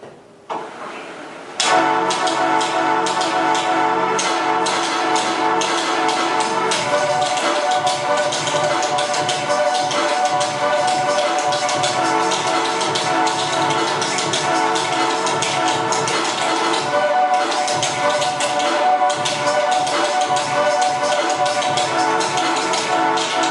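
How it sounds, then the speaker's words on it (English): A loud, dense electronic beat of steady tapping percussion over layered tones, played on a hemispherical MIDI controller, starting after a brief quiet moment and running continuously. "this is the hemispherical MIDI controller, and you can basically play some pretty cool beats on it."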